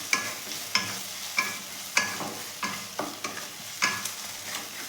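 Beans bharta being mixed with sugar and salt in a pan, heard as rhythmic spatula strokes scraping and tapping roughly every half second over a low background hiss.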